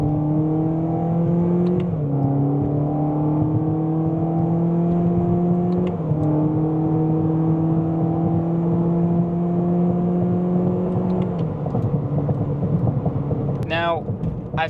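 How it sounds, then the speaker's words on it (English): A 2022 Toyota Corolla E210 drones steadily through its intake and exhaust while driving, the engine tone holding and stepping down at each shift, with a brief whirring sweep near the end. "I do like the sound of the intake and the exhaust."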